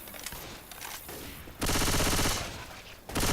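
Rapid pistol gunfire in Left 4 Dead 2, two dense loud bursts of repeated shots separated by quieter game noise.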